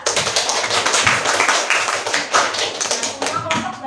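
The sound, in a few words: classroom clapping for group presentation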